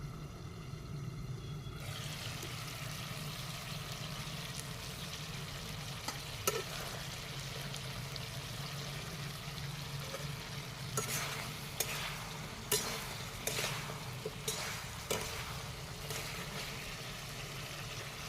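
Ground tomato and coriander go into a simmering taro-flower and local chicken curry, raising a steady, fairly quiet sizzle with scattered stirring clicks.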